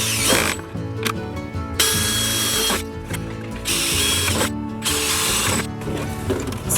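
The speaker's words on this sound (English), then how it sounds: "for these harder plastic juice jugs, I like to use the drill." Power drill boring holes into hard plastic juice jugs, a close, loud whirring punctuated by repeated grinding bursts and short pauses between holes, with no talking.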